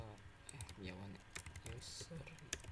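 Soft, quiet computer keyboard clicks and key taps sound in short irregular bursts while a person talks over them throughout.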